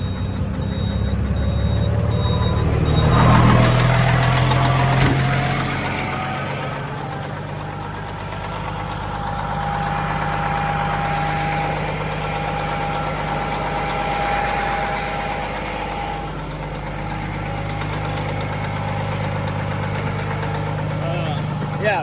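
A side dump truck's engine idles steadily just after a cold start, a loud continuous low rumble with a faint high tone over it, heard close for the whole stretch.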